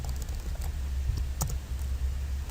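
Quick keystrokes on a computer keyboard entering a value in a spreadsheet, a short run of light, irregular clicks heard close and fairly quiet, with no talking over them.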